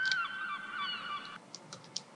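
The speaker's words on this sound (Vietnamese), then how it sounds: "mình sử dụng cái reverb cho cái tiếng con hải âu này chẳng hạn" A seagull call processed with reverb gives a long drawn wailing cry that rings on, then stops, followed by a few short faint clicks.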